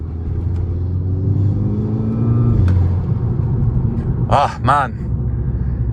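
A VW Golf Mk6 GTI with automatic gearbox and traction control off drives along with steady engine rumble and road noise, interrupted by a short exclamation from the driver.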